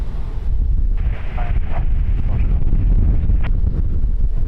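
Strong gusting wind roars across the microphone at Lisbon Airport, a loud, steady buffeting rush with low rumble filling the whole stretch, gusts swelling briefly, with faint radio-like speech fragments underneath.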